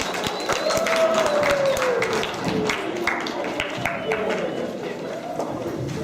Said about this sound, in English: Let's give her another round of applause, Ms. Ferguson